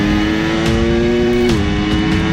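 A Ducati Panigale V4 motorcycle engine roars loud and close on a race track, holding a high, steady howl and then shifting pitch briefly midway through as it keeps accelerating.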